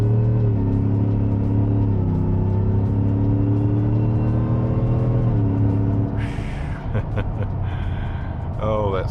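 A 2024 Shelby F150 Super Snake truck accelerates at merging speed, its engine a loud steady rumble that climbs gradually in pitch, then gives way to wind and road noise with a voice near the end.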